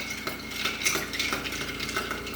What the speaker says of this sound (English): Well, I'm gonna stir this up